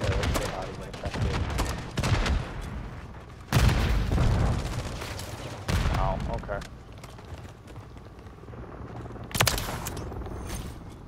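Bursts of gunfire from a hardcore team deathmatch shooter game, several loud broadband volleys spaced irregularly through the stretch, with a player talking over the action between shots.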